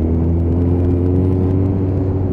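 A Suzuki Bandit 1250cc motorcycle is ridden on the road, with a loud, steady engine drone and low rumble holding throughout.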